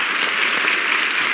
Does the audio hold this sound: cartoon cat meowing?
no